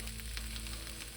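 Onions frying in a pan give off a quiet, steady sizzle with a low background hum, continuous and fairly soft throughout.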